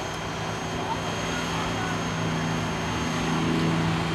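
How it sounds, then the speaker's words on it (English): Steady engine drone of a North American P-51D Mustang on its takeoff roll at the Eglin AFB airshow, a constant propeller roar at moderate distance beneath crowd ambience. "On takeoff roll, the legendary North American P-51 Mustang."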